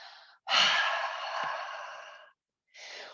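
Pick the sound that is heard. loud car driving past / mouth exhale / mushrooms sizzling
mouth exhale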